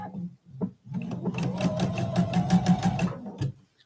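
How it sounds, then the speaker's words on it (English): A domestic sewing machine stitches through quilt block fabric, a steady close whirring run that starts and stops, with a brief pause early on before the stitching settles into a continuous hum. "sew with my needle in the down position"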